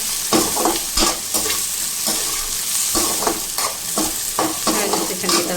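Onions and green chillies sizzle steadily in a pan while a spoon stirs them in repeated scraping strokes, loud and close with no talk, during preparation of a gravy-style arbi (taro root) curry.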